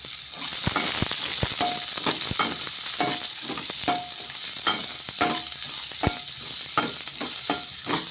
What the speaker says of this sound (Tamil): கத்திரிக்காய் இப்போ நல்லா வதங்கிட்டு இருக்குங்க.